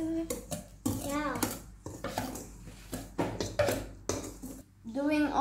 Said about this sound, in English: Mixing all the dry ingredients and sifting it